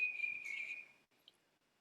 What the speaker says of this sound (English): that phrase consists of a couple of little whistled notes, and in the middle, it's got a really hard little trill